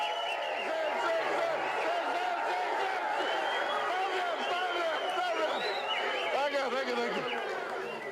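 A dense crowd chatters and calls out at an outdoor election rally in Tari, Papua New Guinea, a steady lively murmur of many voices with scattered shouts and some clapping that continues throughout.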